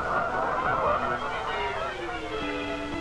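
Geese honking on a rolling farm estate in Maryland, a dense flock calling continuously over a steady background wash, with a narrator's voice partly mixed in.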